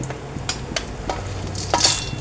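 Dry fruits roast in hot ghee while being stirred, a close sizzle broken by a few quick scraping strokes and a brighter hiss near the end.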